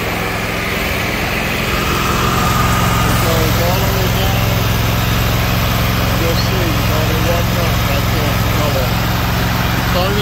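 Small engine running at a steady loud idle with a constant buzzing drone throughout, while someone talks over it close to the microphone.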